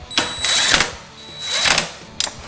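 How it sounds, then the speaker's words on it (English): A ratchet or wrench tightens the bottom bolts of a motorcycle tail light, giving close rapid clicking bursts in two main runs with a short pause between them and a brief final burst. "Now I can tighten these bottom ones, which doesn't actually secure the tail light, just brings these bolts all the way up."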